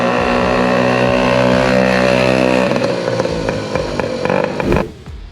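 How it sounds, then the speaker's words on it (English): A 1960 Moto Guzzi Zigolo 98, a small Italian two-stroke motorcycle, runs loud and close with a steady buzzing engine tone that breaks into choppier revving before cutting off abruptly near the end. "Say buongiorno to the 1960 Moto Guzzi Zigolo 98, a featherweight Italian two-stroke"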